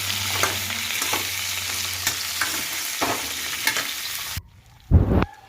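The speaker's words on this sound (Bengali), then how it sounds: "তাতে সবজিটা একটু ভাজা ভাজাও হয়ে যাবে" Shukto vegetables with red potato, carrot, drumstick and home-grown papaya frying in a pan, a steady sizzle with stirring scrapes, then a pause and a louder brief burst near the end.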